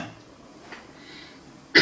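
A single sharp cough from a man preaching a church sermon on theology, close and loud, cutting in at the very end after a stretch of quiet room tone.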